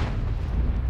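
Artillery fire in the tank battle game World of Tanks, self-propelled gun shot, rendered as a dense, loud low rumbling boom that fills the moment with sustained heavy bass.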